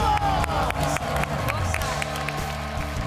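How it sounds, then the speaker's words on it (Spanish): A TV game-show studio audience on ¿Quién es la Máscara? claps and cheers after a singing performance, a busy, lively crowd noise with sharp claps and shouting voices throughout a short burst. "¡El aplauso para Puma!"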